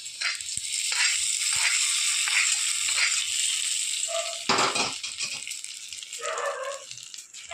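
Fried onion and curry leaf tempering is poured into a pot of kuzhambu curry in a home kitchen, giving a steady close crackle and rattle with brief louder sizzling bursts.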